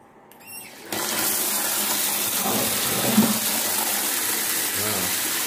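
Running water gushes steadily from an open tap with the hum of an automatic Sumitsu water pump, about 200 to 250 watts, underneath, starting after a short quiet moment and continuing evenly.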